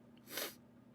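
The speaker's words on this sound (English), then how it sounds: "I just sneezed my brains out" A single sharp human sneeze, close and fairly loud, bursting out in under half a second and fading quickly into quiet with no other sound around it.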